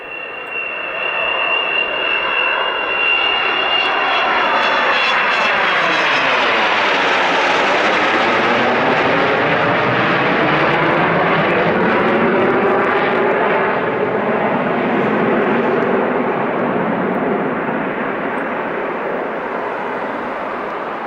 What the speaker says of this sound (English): This was the day when the Vulcan came through.